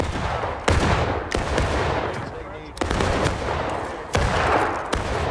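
Musket volleys crack out in a Civil War battle in War of Rights, several sharp reports at irregular intervals over a constant din of distant gunfire and shouting soldiers.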